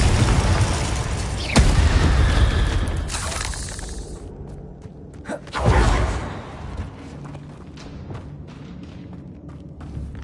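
Spell effects from Hogwarts Legacy, including a fiery Confringo blast: a sharp shattering crack near the start, a sustained burst of crackling noise, then a second loud impact around midway fading into softer rumbling debris.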